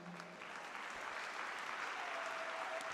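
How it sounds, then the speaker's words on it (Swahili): A church congregation applauds during a sermon, a dense and steady wash of clapping heard from some distance for the whole stretch, with no talk over it. "Hayo makofi hayatoshi"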